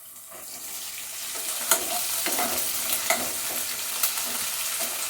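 Ginger, garlic and green chilli paste hits browned onions frying in a pan, giving a strong continuous sizzle with a few scattered stirring clacks over it.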